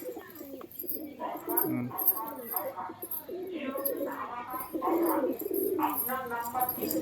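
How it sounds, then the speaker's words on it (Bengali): Domestic pigeons, many suffering from twisted necks, give low soft coos at a house while someone talks over them almost continuously. "সুখচাঁদ ভাইয়ের তো এই পায়রাগুলো দেখুন"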